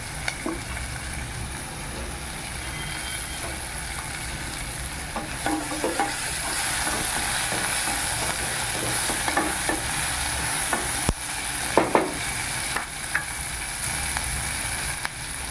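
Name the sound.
sautéing turkey berries (sundakkai) in a pan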